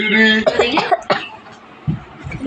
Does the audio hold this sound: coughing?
yes